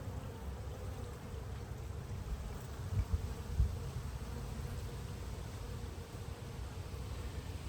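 Honey bees hum steadily around an open hive after a week of heavy rain, a dense, even drone close by with a few louder thumps partway through and no talking.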